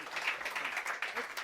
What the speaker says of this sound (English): please, ladies and gentlemen, give my counterparts and panelists a round of applause as they stand up and make their way off of stage